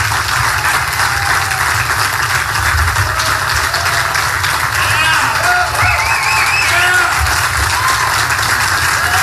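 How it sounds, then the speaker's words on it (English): Sustained applause from the audience and press at a Trump rally, loud and steady throughout, with scattered whoops and cheers rising within the crowd noise. "some of the press was actually clapping"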